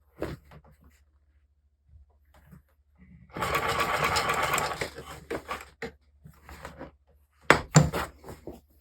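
A sewing machine stitches fur mittens in one steady motorized burst of a second or so, with quiet handling noises and a few clicks before and after.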